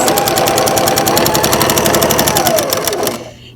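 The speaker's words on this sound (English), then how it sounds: "Start sewing my 1/4 inch seam all the way down." A sewing machine stitches a quarter-inch quilt seam while chain piecing, with a fast, even mechanical chatter running loud and close, then slowing and stopping near the end.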